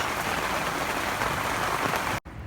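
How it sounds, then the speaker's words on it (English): Steady, dense rain patters on a boat's hard deck nearby, a constant hiss of drops that cuts off abruptly near the end. "Raining, it's nice."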